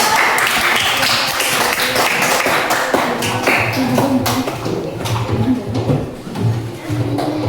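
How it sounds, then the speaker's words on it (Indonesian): Schoolchildren clapping in an elementary classroom, producing a dense, fairly loud patter of many hands that fades toward the end, with voices mixed in. "Tepuk tangan."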